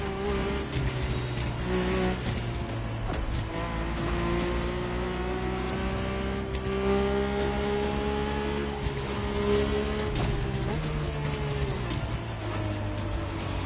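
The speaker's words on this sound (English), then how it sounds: "My ultimate appointment in this country was set with the breathtaking Mercedes AMG 1." A Mercedes-AMG One hypercar in The Crew Motorfest drives hard, its engine holding a loud, sustained whine with rising and falling pitch as it shifts and accelerates, with some tire noise underneath.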